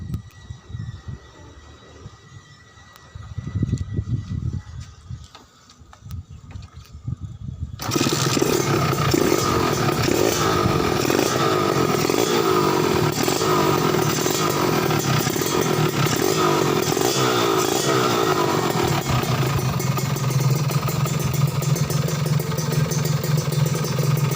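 A modified motorcycle engine revs hard and loud after a quieter idling start, holding a steady roaring drone for most of the stretch with no talk over it.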